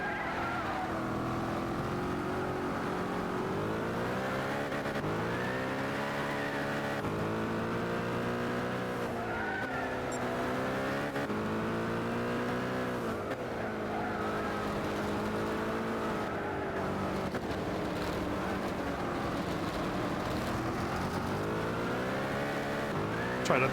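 Race car engines in Gran Turismo 6, including a Chaparral 2J and a Toyota 7, roar continuously with steady gear-shift pitch sweeps, loud and close throughout the lap with no voice over them.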